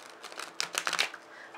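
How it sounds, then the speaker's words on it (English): A quick riffle of tarot cards being shuffled, a short papery flurry of flicks that rises and then fades, heard alone. "So, shuffle it a couple of times,"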